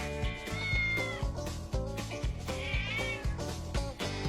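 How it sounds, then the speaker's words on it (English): A cat yells outside in repeated drawn-out meows and caterwauls, clear and fairly near, sounding over a steady low rhythmic background thump with no talking. "Hear my cat yelling outside?"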